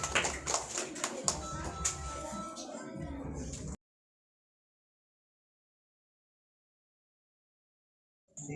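A class at a school math quiz claps together in a burst of rapid, close hand claps mixed with voices, then falls abruptly silent before a brief return of sound at the end.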